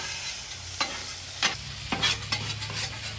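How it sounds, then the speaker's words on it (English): Onions sizzling on a griddle over a live wood fire, a constant crackling hiss broken by several louder scraping stirs and pushes, close and without talk. "Did you notice when I moved the onions over how much louder it got?"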